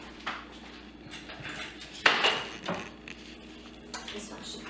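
A knife cuts through layered homemade baklava in a baking pan, giving a few scraping clinks and taps against the metal, with one sharper knock midway, close and moderately loud.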